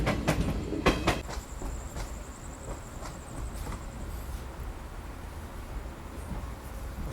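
A special train from Lakhimpur to New Delhi arriving at night at Pilibhit Junction platform 2: loud wheel clatter and rhythmic clicks over rail joints, a long high squeal of wheels, then a steady rumble as it rolls in.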